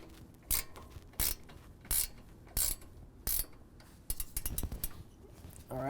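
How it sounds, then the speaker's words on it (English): An 18 mm ratcheting wrench loosens a bolt on the upper control arm of a 2024 Ford F-150, a series of sharp, close ratchet clicks in short bursts that quicken toward the end. "now with an 18 millimeter ratcheting wrench, I'm going to go ahead and loosen it up."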